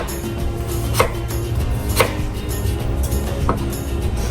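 A knife chops apples on a cutting board for apple fritters, steady repeated cuts at close range with a few sharper knocks against the board, no talking.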